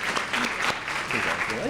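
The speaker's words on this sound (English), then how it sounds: "can we give a round of applause to Gourmet Express," A school district awards ceremony audience applauds its caterers, Gourmet Express, in a short, full burst of clapping, with voices murmuring underneath.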